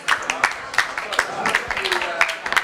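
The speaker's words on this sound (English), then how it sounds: "Give a big round of applause for Rowan." An audience at a hackathon talk show applauds with a dense patter of claps, uneven and lively, while people talk over it.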